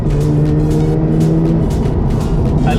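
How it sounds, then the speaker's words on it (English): Mazda RX-8 rotary engine droning steadily at close range while driving on a touge mountain road, a loud continuous hum with a few swelling pulses and no speech. "I really love the way the car sounds"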